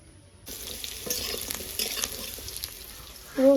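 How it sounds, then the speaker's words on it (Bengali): Potatoes frying with garlic and chili in a pan give a steady close sizzle with stirring scrapes, ending in a louder burst near the end. "রসুন লঙ্কার আলুটা ভেজে নিয়েছি।"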